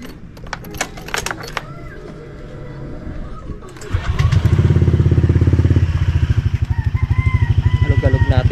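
A motorcycle engine, just treated with carbon cleaner, cranks and fires at about four seconds, then runs loudly near the microphone with a steady pulsing idle and rising revs, after earlier clicks and handling noises.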